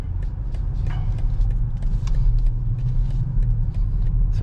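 A 2025 BMW X5 M Competition V8 SUV drives on a road in comfort mode. Steady low road rumble and engine hum are heard from inside the cabin, continuous with no talk.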